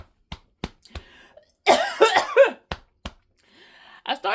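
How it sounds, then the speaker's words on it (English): Several sharp coughs and throat-clearing bursts from a person who has just eaten a bite of spicy pasta sauce, starting as isolated hacks, then a dense cluster of harsh coughing, then more single coughs, close and loud. "I started to cough and I inhaled"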